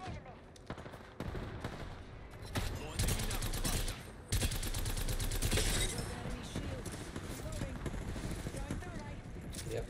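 Rapid automatic gunfire in Apex Legends as Bangalore fires, dense loud bursts of shots with a pause near the middle before firing resumes, overlaid by voices.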